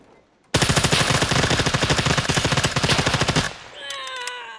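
Loud, rapid machine-gun fire in the video game SCUM rattles in a dense continuous burst for about three seconds, then cuts off and leaves quieter tonal game sounds.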